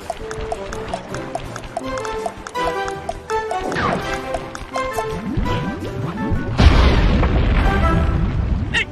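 Video game explosions from Sly 3 set off by dynamite: cartoonish booms and pops rumble over a busy orchestral score, with a big blast near the end bursting loud and broad before fading into a sustained roar.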